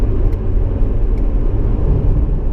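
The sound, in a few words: straight-piped stock 2016 Corvette engine roaring, downshifting four gears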